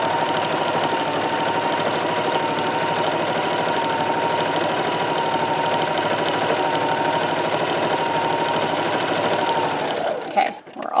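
Sewing machine stitching fabric along a gathering line, a steady loud whirring drone held for about ten seconds before stopping abruptly.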